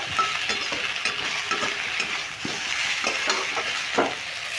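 Ridge gourd frying in oil in a pan, a steady close sizzle with scraping stirs from a spatula throughout, no voices.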